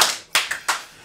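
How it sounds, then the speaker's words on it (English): Three sharp hand claps in a loose rhythm, close and loud, with no voices over them. "Let's do the clap again."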